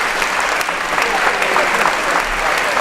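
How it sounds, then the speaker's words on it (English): An audience at a high school academic awards ceremony applauds steadily, dense even clapping filling the hall for the full few seconds with no break. "Let's give them a round of applause."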